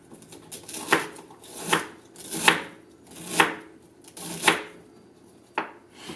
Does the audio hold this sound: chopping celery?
yes